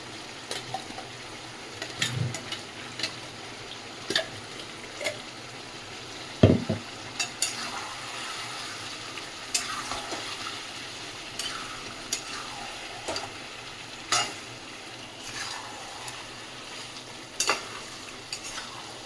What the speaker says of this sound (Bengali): এই পেঁয়াজ ভাজা টমেটোর পেস্টটা এবার ঢেলে দেবো।